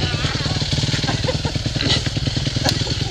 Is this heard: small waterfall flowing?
no